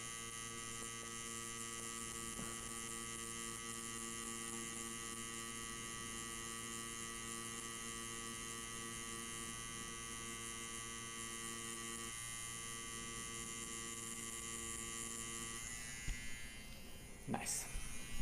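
A tattoo machine buzzes steadily while inking a logo onto practice fake skin, a continuous electric hum at low level. Louder scraping and handling noises break in near the end.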